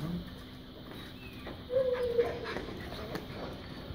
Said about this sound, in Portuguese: Tá aqui os nossos cachorros veadeiros.